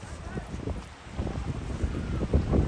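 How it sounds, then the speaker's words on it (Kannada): Strong wind on a hilltop viewpoint buffets the microphone with a loud, steady, gusting roar that lasts the whole moment. "ಗಾಳಿ ಭಾಳ ಬಿಟ್ಟಿದ್ದು ವಾಯ್ಸ್ ಬರ್ತೀನಿ ಗೊತ್ತಿಲ್ಲ"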